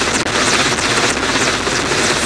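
Army helicopter hovering during urban combat training as troops descend onto a building's rooftop, a loud, continuous, close rotor thrum and engine roar filling the whole stretch with no talk.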